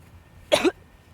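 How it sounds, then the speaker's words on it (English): A single sharp cough, close by, in an otherwise quiet setting. "I think I'm getting the whooping cough"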